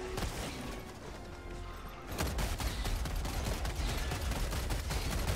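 Dense, continuous gunfire and clattering action from the video game Helldivers 2, steady and loud throughout, getting fuller and harsher after the first couple of seconds.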